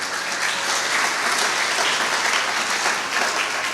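Church congregation applauding and cheering in a sustained, dense wave of clapping that fills the room loudly and evenly, with faint voices mixed in.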